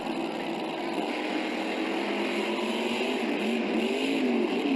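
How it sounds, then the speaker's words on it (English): A Monster Jam monster truck driven by Don Creighton, heard at the 2008 St. Louis event, roars steadily at high power with a dense, continuous engine drone and arena wash, loud and unbroken throughout. "you can hear Don Creighton's truck in the other lane. That Creighton horsepower is something else"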